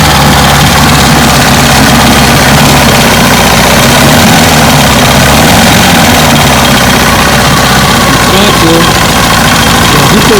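A 1962 Johnson 75 hp outboard motor idles in neutral, a loud, steady, close-up rumble with an even mechanical beat throughout, no talking.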